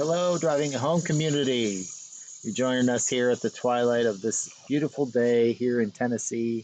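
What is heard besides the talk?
cicadas singing at twilight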